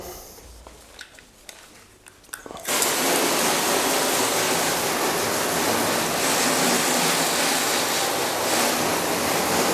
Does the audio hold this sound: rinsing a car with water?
yes